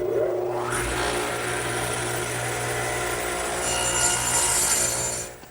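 A radial arm saw cuts through a wooden garden bench armrest in a workshop with a loud, continuous rasping roar. The sound rises sharply at the start, holds steady, then drops away as the cut finishes.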